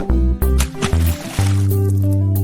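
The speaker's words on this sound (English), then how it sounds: "who is throwing water balloons at me?" A cartoon water balloon bursts with a loud, wet squishing splash, layered over bright sustained tones.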